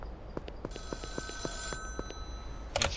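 In the video game Schedule 1, a pay phone rings with a repeated electronic trill, regular short bursts at moderate volume and close by, with no speech.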